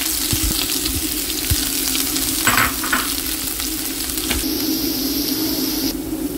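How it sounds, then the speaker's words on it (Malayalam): Crushed spice mix sizzles in hot oil with popped mustard seeds, a loud, dense crackling fry close up, with a few stirring scrapes and a steady hiss throughout. "കടുക് പൊട്ടി വരുമ്പോൾ അതിലേക്ക് നമ്മൾ ചതച്ചിരിക്കുന്ന മിക്സ് ഇട്ട് കൊടുക്കുക."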